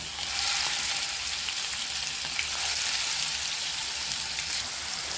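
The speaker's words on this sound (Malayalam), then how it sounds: "അപ്പം നമ്മൾ ചെമ്മീനെ ഫ്രൈ ചെയ്യാനായിട്ട് ഇട്ട് കൊടുത്തിട്ടുണ്ട്" Prawns fry in coconut oil with a dense, steady sizzle and scattered pops and crackles, close and continuous for several seconds, with no voices.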